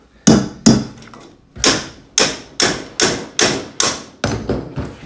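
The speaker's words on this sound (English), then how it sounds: "So I've hammered that back down." A metal part inside a Chamberlain chain drive garage door opener carriage assembly is hammered back down with about ten sharp, ringing blows, close and loud, falling at a steady pace after two quick opening strikes.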